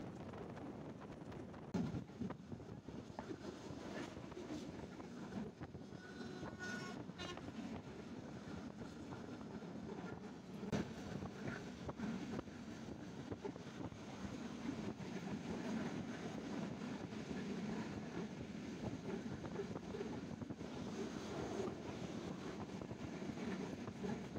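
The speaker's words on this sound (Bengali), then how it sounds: "ঝড়ের গতিতে ছুটে চলছে আমাদের সিরাজগঞ্জ এক্সপ্রেস ট্রেন।" Sirajganj Express train racing along at high speed, a steady loud rumble of wheels and carriages with faint clickety-clack and wind buffeting the microphone throughout, no voices.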